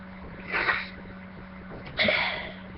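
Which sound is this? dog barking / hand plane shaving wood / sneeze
sneeze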